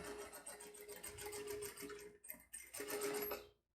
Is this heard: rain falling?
no